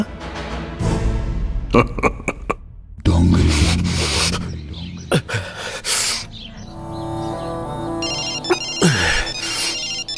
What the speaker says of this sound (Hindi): मंत्री जी का फोन है।